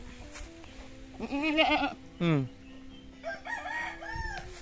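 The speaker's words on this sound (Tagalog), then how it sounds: "Yung kambing to." A goat bleats several times, mixed with rooster crowing and other barnyard fowl calls, loud and close, with no talk.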